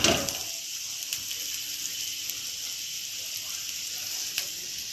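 Chopped carrot hits a hot pan, opening with a quick clatter before settling into a soft, even sizzle with occasional faint ticks.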